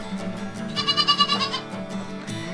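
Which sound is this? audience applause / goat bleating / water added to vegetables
goat bleating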